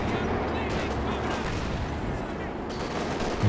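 Sustained machine gun burst in Company of Heroes 2 amid a wartime battle, loud dense rattling fire running continuously with explosive noise throughout, no clear pauses between rounds.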